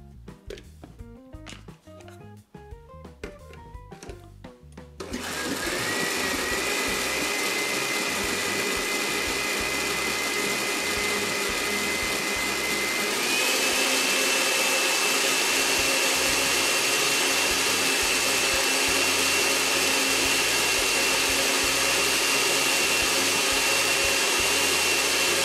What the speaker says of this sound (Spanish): Y vamos a licuar.